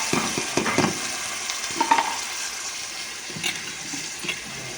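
Onion, cucumber and tomato pieces sizzle together in a pan, with a few sharp stirring clatters early on and a softer steady fry after that. No one speaks.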